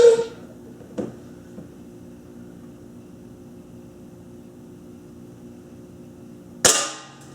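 A Benjamin Titan NP air rifle fires two sharp, close shots several seconds apart, each a crisp crack with a brief decaying tail, over a faint steady background hum and no talking.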